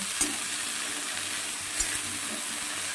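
Fresh coriander leaves frying in a pan for a coriander-leaf bharta, giving a soft, even hiss of sizzling throughout with a couple of faint stirring knocks, close by and without speech.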